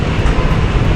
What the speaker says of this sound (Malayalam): കാണാം, നമുക്ക് ഒന്നിലേക്കാണ് നമ്മുടെ വണ്ടി കയറിക്കൊണ്ടിരിക്കുന്നത്.